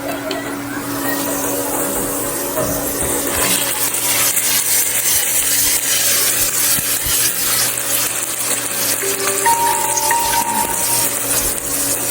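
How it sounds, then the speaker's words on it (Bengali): Marinated mutton with whole garam masala fries in ghee and oil, a steady loud sizzle with scraping stirring strokes across the pan, close up and continuous with no voices. "আর ঘি আর তেল দিয়ে ভালো করে ভেজে নিচ্ছি।"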